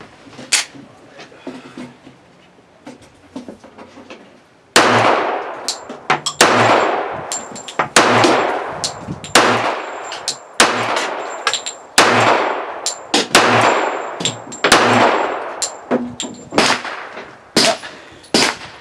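A Girsan MC 1911 .45 ACP pistol fires a rapid string of sharp, loud shots in close, fairly even succession, each ringing briefly, after a few seconds of quieter handling noise at the start.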